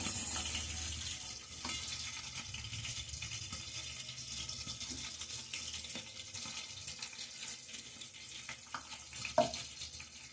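Onions frying in a pan for a chicken fry, giving a soft, steady sizzle with occasional faint clinks and stirring sounds, fairly quiet throughout.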